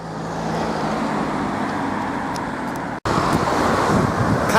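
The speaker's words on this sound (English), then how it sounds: "Cars slowing down there, they probably think I've got a speed camera." Cars slow down on Rill Road, their steady rumble of tyres and engines mixing with wind buffeting the microphone, briefly cut off by a sharp dropout before the roadway noise resumes.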